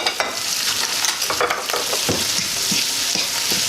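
Tomato, onion and garlic cook together in a pan for Jamaican ackee and saltfish, a close, loud sizzle layered with frequent spoon scrapes and clatters; no speech.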